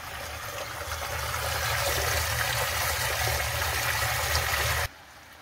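Water rushes at full flow through the skimmer lines of a koi pond, a steady loud gushing that cuts off abruptly near the end.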